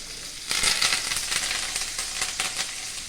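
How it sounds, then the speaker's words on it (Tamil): Mustard seeds crackle and sizzle loudly in hot oil in a pan for Tamil moor kuzhambu, a dense close hiss with sharp popping bursts that ease slightly after the first second. "எண்ணெய் ஊற்றி கடுகு போட்டாச்சு"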